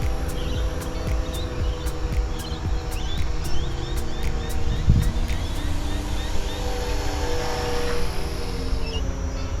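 A Savage Bobber RC plane converted to a single-cell 1S battery flies at half throttle, giving a steady, thin propeller and motor whine over outdoor ambience with insect chirps.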